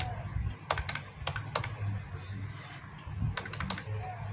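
Computer keyboard typing text into Photoshop while designing a church flyer: irregular bursts of sharp key clicks with pauses between, close and moderately quiet over low room hum.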